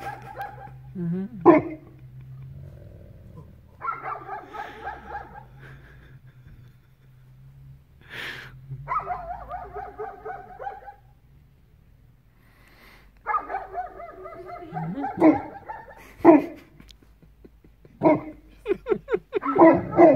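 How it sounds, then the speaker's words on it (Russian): A dog barks at sunrise in repeated bursts of loud, harmonic barks and yips with short pauses, fairly close, over a low steady background hum. "То есть, видите, он на солнце лает."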